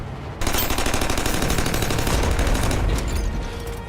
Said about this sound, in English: we wreck her with the machine gun